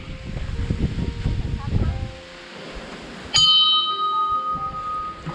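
A single bright strike of a temple bell at an old temple rings out and decays with a lingering metallic hum, preceded by rustling movement and faint murmuring voices.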